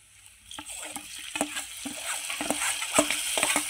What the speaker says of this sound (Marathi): आपण भिजवून ठेवलेली मटकीची डाळ टाकायची आता,